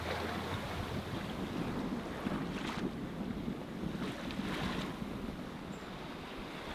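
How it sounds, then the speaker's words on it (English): Wind rushing steadily past a sailboat under way at sea, a broad, constant roar with brief gusty surges and water wash beneath, no voices. "happy to report that the wind has picked up"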